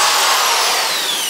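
Power drill boring into a kitchen wall during a home renovation, a loud continuous high-pitched whine held steady and close, with no talk over it.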